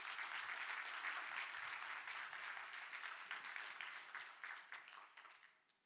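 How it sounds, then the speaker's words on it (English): Audience applause at a fisheries and ocean science seminar, steady clapping from a room of people that slowly fades away over several seconds. "Give a big round of applause, ladies and gentlemen,"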